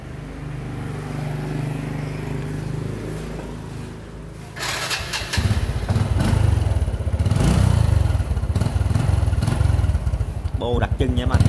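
A 2000 Thai-market Honda Wave 110 motorcycle with its distinctive exhaust, idling low at first, then revving up loud and close, the engine note rising and falling under people talking nearby.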